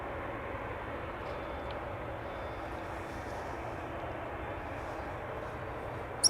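A TUI airliner at Amsterdam Schiphol Airport, a steady, distant low engine roar holding even throughout.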